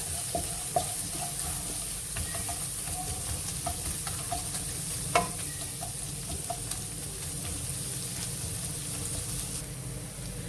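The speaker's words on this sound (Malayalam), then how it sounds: "എന്നിട്ട് ഇത് നന്നായിട്ടൊന്ന് ഫ്രൈ ആവട്ടെ, തേങ്ങാക്കൊത്ത്" Chopped coconut pieces fry in a pan for Kottayam-style beef ulathu, a soft continuous sizzle with occasional light clicks and scrapes of stirring, steady and moderately quiet, no voices.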